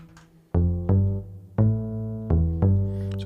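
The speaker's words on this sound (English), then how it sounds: "The next sound is a bass sound," Acoustic bass patch from a Roland MC-303 groovebox, bank 3 sound 1, plays five plucked notes with round, deep tones that ring and fade slowly, clear and alone.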